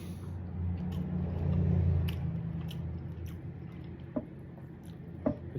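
Eating a first meal after a seven-day water fast, with soft close chewing and biting plus a few sharp crunchy clicks over a low room hum.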